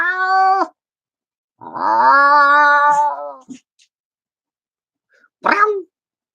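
A person imitates a cat with three separate meows, close and clear, with quiet pauses between them: a short call, a longer drawn-out one, then a brief final mew.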